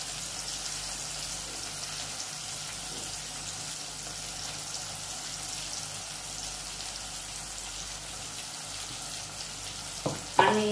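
Green masala paste fries in oil with tomatoes for a keoti dish, a soft, even sizzle held steady and fairly quiet, with a couple of brief clinks near the end.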